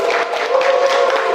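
An audience at a lecture on the economy claps together, a steady wash of applause lasting only a moment.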